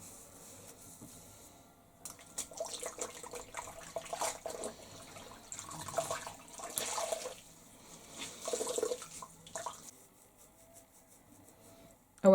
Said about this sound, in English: I've filled up the sink with some fresh water and a fresh flannel, and I'm gonna rinse this off